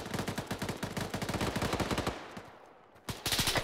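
Rapid automatic gunfire from Arma 3 combat, dense machine-gun bursts hammering loud and close for two seconds, a brief lull, then another burst resuming.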